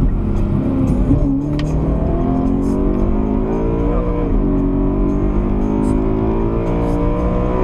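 A BMW M3 driven hard through central Warsaw, its engine loud and close, revving continuously with rising and falling pitch as it accelerates and shifts.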